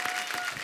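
Audience applause on the set of The Kapil Sharma Show greeting a singer, a brief burst of steady clapping from a studio crowd.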